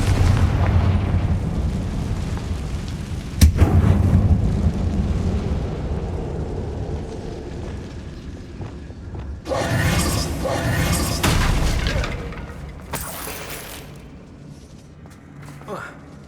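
A Bombarda blasting spell goes off in an abandoned mine in Hogwarts Legacy, a sharp booming burst followed by rumbling debris and crackling bursts, with someone talking over the game sounds.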